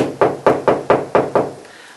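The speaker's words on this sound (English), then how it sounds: "there's a rap at the door" Six sharp, evenly spaced knocks rap on a wooden door, loud and close, each with a brief ringing decay before silence.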